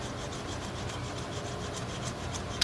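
Chalk scraped steadily across the outside tread lugs of a tire, a continuous dry rasping rub at low level with fine repeated strokes throughout.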